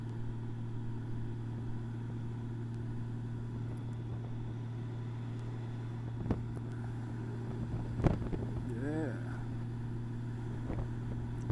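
A 2018 Honda Gold Wing motorcycle with a Kuryakyn upper air deflector cruising on the road, its low steady engine drone and wind rush continuing evenly, with a brief faint chirp partway through.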